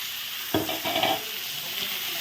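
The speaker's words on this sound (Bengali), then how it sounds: "এখন টমেটো কুচি, পেঁয়াজ, রসুন দিয়ে দিল, এখন ভেজে নেব" Chopped onion, tomato and garlic crackle and sizzle in oil in a pan with a few stirring scrapes, steady close frying noise throughout.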